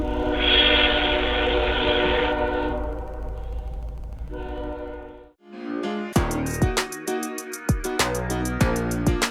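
A train rolls through a railroad crossover at a small-town junction in Deshler, Ohio, starting with a loud steady rumble and horn-like tones, then a pause, then sharp rhythmic clanks and bangs as wheels cross the track joints.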